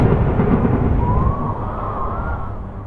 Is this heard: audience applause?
no